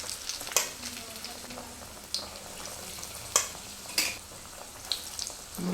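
Doddapatre leaf bajji fritters fry in hot oil with a soft continuous sizzle, faint and close, punctuated by a few sharp clinks and scrapes of utensils against the pan.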